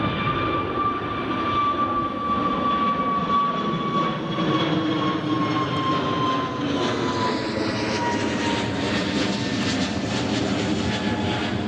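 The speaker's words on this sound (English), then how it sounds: "Eurowings is on the approach." A Eurowings jet airliner on approach to Newcastle Airport, a steady loud engine whine with a falling tone and a broad roar that swells toward the end as it passes close.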